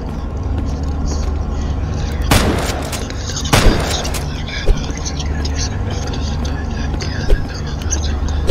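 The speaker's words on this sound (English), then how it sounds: "I'm about to start shooting" Gunfire in a horror video game: two loud, sharp gunshot blasts a second apart, then smaller pops, over a constant low rumbling game background, with a voice talking faintly underneath.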